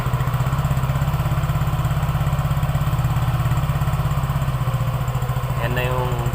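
Yamaha NMAX V1 scooter idling with an RS8 Powerpipe stainless exhaust, a steady close low throb running unbroken, with brief voice near the end.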